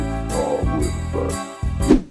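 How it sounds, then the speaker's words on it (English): Electric guitar played with a light chorus effect for a lofi tone, a few clean sustained chords ringing one after another with a subtle shimmer, close and alone. "You can still hear the chorus effect in the background."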